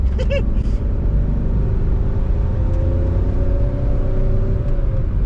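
A diesel VW Polo with a manual gearbox drives along, its engine giving a steady low rumble and road drone throughout, with a brief higher whine near the start.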